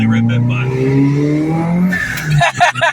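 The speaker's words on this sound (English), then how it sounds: "That turbo is nice." A Mitsubishi Evo's turbocharged engine pulls on a damp road, droning loud and close with a rising spool before a brief tire chirp and a voice break in near the end.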